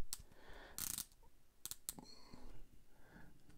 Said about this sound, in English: Now, these have 120 click rotating bezels. And that's a firm click.